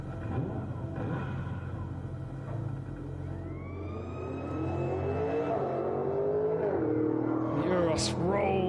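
A Lamborghini Urus safety car at a Lamborghini Super Trofeo race at Vallelunga grumbles away at low revs, its engine tone rising and falling as it pulls off, under a commentator's voice.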